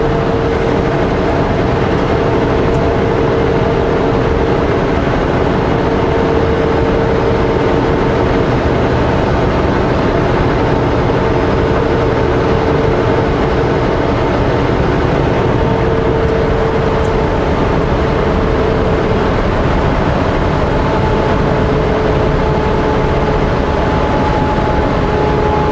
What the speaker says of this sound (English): If you guys can hear the engine when I slow down for a corner